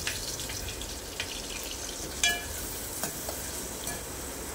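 Finely chopped onions sautéing in hot oil for a Malvani-style mori masala, a steady broadband sizzle with a few soft clinks of stirring, close and fairly quiet, with no talking.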